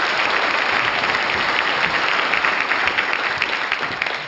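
Sustained, dense applause from a large audience at a televised public forum on community and local government in Seosan, loud and steady throughout with no voices over it.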